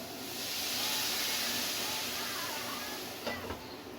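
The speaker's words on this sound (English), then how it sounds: "Now we're going to steam it by putting some water in there." A loud, broad hiss of steam rising as water hits a hot pan of pork sausage schnitzel, slowly fading, with a brief clatter near the end.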